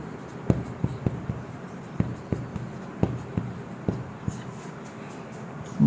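Writing on a board during a chemistry lesson: a run of sharp, close taps and short scratches in an uneven rhythm, clear against a quiet room.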